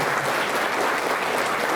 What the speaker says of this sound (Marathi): तुमचं सगळ्यांचं आम्ही सगळेजण टाळ्या वाजून तुमचं या ठिकाणी स्वागत करतो